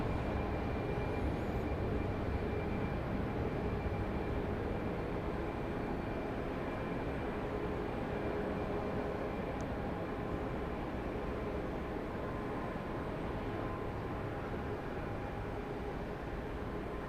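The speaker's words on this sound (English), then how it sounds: "So we've got an Embraer Legacy 600 getting ready to take off there on 13 left." An Embraer Legacy 600 business jet waits on runway 13 Left at Dallas Love Field before takeoff. Its engines make a distant, steady, broad roar that stays faint and unchanging throughout.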